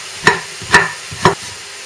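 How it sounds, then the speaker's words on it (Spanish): Sliced garlic and chopped onion cook gently in a little oil in a pot, while three evenly spaced stirring strokes scrape through over a soft background sizzle. "En una olla con un poquito de aceite vamos a ir añadiendo las distintas verduras para que se vayan pochando y se vayan haciendo poco a poco"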